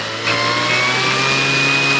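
Electric brushless motor on a Sig Four-Star 20EP model airplane, spinning a larger propeller on a bench test at about half throttle: a steady, loud, continuous whine with a constant pitch, rising slightly at the start and then holding even, with no talk.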